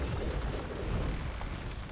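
Cannon galleons fire during a naval engagement in a strategy game with villagers and docks, producing a dense, continuous rumble of booming cannon blasts that stays steady and fairly loud for two seconds with no voices.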